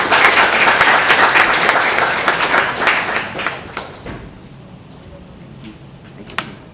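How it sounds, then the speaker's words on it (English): Audience applause at a Rails Girls coding event in Singapore, a loud crowd of clapping hands that fades out after about four seconds, leaving a few scattered claps and soft thumps in a quieter room. "can we give her another round of applause?"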